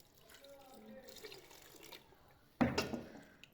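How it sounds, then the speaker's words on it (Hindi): Water is poured into a pot of chicken haleem as a short, close splashing gush near the end, after a quieter stretch of low kitchen noise. "पानी हमने मज़ीद शामिल किया"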